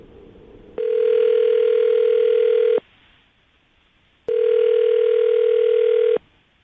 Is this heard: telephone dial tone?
yes